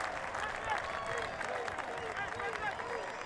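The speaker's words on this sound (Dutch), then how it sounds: "En zijn doelpunt wordt met gejuich ontvangen op het sportpark." A crowd at a Dutch amateur football ground applauds and cheers a goal for sc Heerenveen against v.v. Buitenpost, with scattered clapping and shouts at a moderate distance under a commentator's voice.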